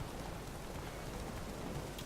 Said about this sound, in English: Oh, rainy and stormy.